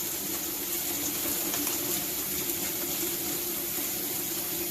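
Tap water runs in a steady, continuous stream while snails are rinsed, a close and fairly loud gush with no pauses and no talking.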